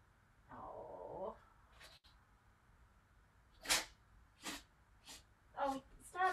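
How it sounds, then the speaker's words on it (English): A cat sneezes indoors over papers on a desk. A short voiced sound comes first, then several sharp, close sneezes arrive at uneven intervals, with a few quieter bursts in between. "You're sneezing all over papers."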